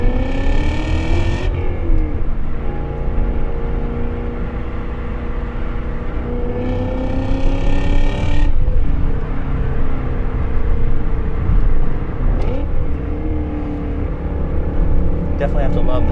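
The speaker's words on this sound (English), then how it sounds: "Definitely have to love the sounds that come out of this car" A BMW M340i engine revs hard and pulls through the gears, with loud rising and falling exhaust sweeps and shift breaks, running steady and close throughout.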